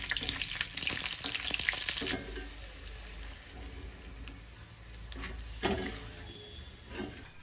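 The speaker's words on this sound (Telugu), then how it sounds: "నేను ముందుగా మజ్జిగ మిరపకాయలు వేయించుకున్నాను" Buttermilk-soaked dried chillies fry in hot oil in a tempering pan for a lentil and greens dish, a steady sizzling hiss that is louder at first and then settles into softer crackling with occasional spurts.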